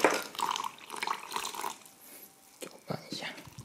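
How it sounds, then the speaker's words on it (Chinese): Water pours and splashes into a cement mix being prepared in a small container, a short uneven gushing sound with a voice speaking over it. "加水"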